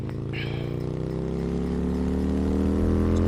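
A cartoon Bullet motorbike engine drones steadily and loudly at racing speed, its pitch slowly climbing as it revs, continuous throughout.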